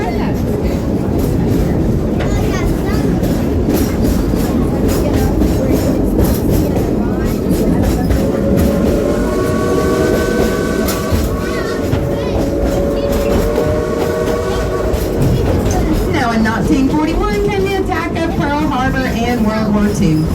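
Dollywood's steam engine 70 rumbles along on the train ride, wheels clattering steadily on the rails with a squealing tone rising mid-run, loud and close as narration continues over it.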